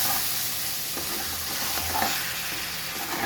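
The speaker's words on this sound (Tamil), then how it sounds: "சிக்கனை நல்லா கிண்டி வரணும்" Chicken pieces sizzle loudly in a pan while being stirred, a dense continuous frying hiss with faint scraping touches underneath and no voices.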